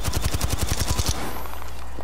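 Automatic gunfire in a multiplayer shooter video game, a rapid burst of about a dozen loud, evenly spaced shots lasting about a second, followed by a low lingering rumble.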